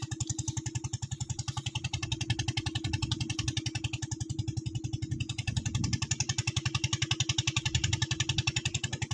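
A motorized water pump engine idles and chugs steadily nearby with a rapid, regular putter, running unbroken throughout while irrigating a corn field.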